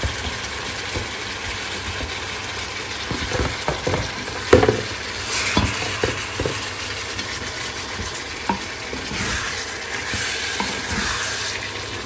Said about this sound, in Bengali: এখানে চিংড়ি মাছের মশলাটা আমি কষাই ফেলছি।